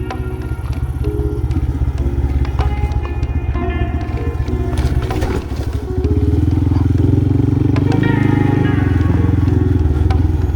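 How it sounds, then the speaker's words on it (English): Motorcycle riding off-road on a dirt track in rural Thailand, engine droning with rattling and crunching from the rough surface, then revving louder and steadier in the second half, close and loud. "Luckily, I have Zelda, my trusty bike, who's well equipped for this type of road."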